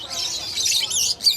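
Caged birds at the Malabon pet market chirping in quick, high, bright tweets over roughly a second and a half, close and fairly loud.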